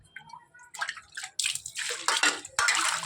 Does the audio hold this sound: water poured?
yes